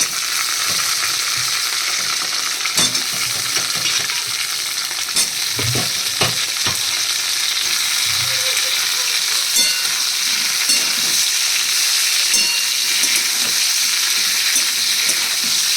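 Pointed gourds hit hot mustard oil with chillies, giving a loud, dense, continuous sizzle and spatter close by, dotted with occasional crackles and clinks of a utensil, and no voices over it.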